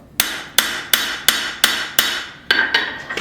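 A hammer strikes a forged integral bolster knife blade on an anvil: eight sharp, ringing metallic blows in a steady rhythm, close and loud, with the last few landing a little quicker.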